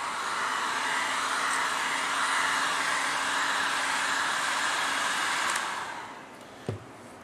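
Heat gun blowing hot air over craft material, a loud, steady close whoosh that runs for several seconds, then cuts off and is followed by a small knock.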